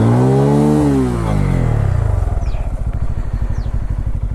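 Bajaj Pulsar N250 motorcycle engine revving hard in deep mud off road, a loud close rising roar that drops into a rapid, throbbing idle-like pulse.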